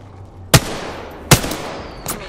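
Three sharp, loud gunshots from a video game shooter, spaced roughly a second apart, each with a short ringing tail over faint background noise.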